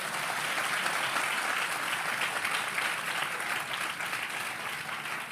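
Audience applause at a Telugu Q&A talk session, a steady, dense wash of clapping that fills the whole stretch at even loudness without a break.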